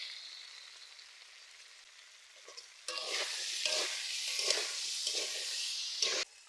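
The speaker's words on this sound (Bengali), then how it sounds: "কেটে রাখা আলুগুলো দিয়ে দিলাম, ভেজে নেব মশলার সাথে" A faint hiss gives way to louder, close frying as potatoes cook with turmeric, chili powder and tomato, with uneven scraping and stirring bursts.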